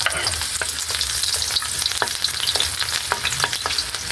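Onions frying in a hot pan, a dense crackling sizzle with frequent sharp spatula scrapes against the pan, close and steady throughout.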